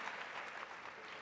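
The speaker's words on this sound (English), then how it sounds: "I think they want to clap again." Audience applause at a keynote conference talk, a steady wash of many hands clapping at an even level throughout the short stretch, with no talk over it.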